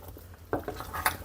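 Spoon scraping and clinking against a pot while condensed milk caramel is stirred, a few quiet, brief metallic taps and scrapes in a near-silent kitchen.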